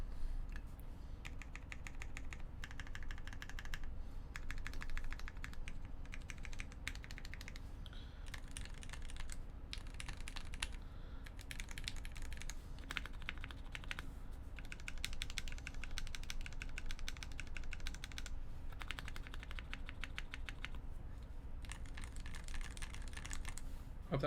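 Typing on a Prophet mechanical keyboard with a nylon plate, tested on its larger keys: a continuous run of close, crisp clacks in uneven bursts and short pauses, heard alone.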